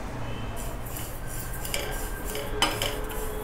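Sesame seeds dry-roasting in a pan for Maharashtrian tilgul, stirred with a utensil that scrapes and clinks against the metal in a steady close rattle, with one sharper clink near the end.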